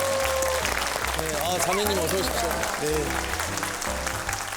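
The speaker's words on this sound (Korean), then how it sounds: "다시 한번 박수 부탁드립니다" Studio audience applause on a Korean talk show, a steady broadband wash running the whole time beneath a host greeting and welcoming a guest, with music tones also in the mix.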